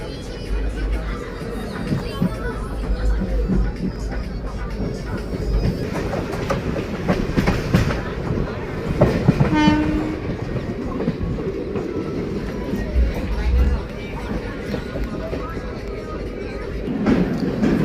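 Passenger train rolling along rails on the ride to Bareilly in India, a steady close rumble with rhythmic clickety-clack and occasional louder clanks, under faint background chatter.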